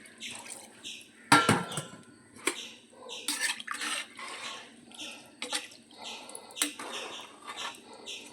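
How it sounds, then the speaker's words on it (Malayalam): Water is poured into a pot of old-style roasted-coconut chicken curry: close, intermittent splashes and gurgles broken by sharp metallic clinks of utensils against the pot, with short quiet gaps between pours. "അപ്പോൾ നമുക്ക് കുറച്ചുകൂടെ വെള്ളം ഒഴിച്ചോളാം"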